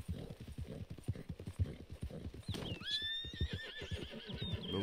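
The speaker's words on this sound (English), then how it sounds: "This horse always hitting his hoof." Steady clip-clopping horse hooves in a quick walking rhythm from the video game Red Dead Redemption 2, with a horse whinnying partway through over faint background ambience.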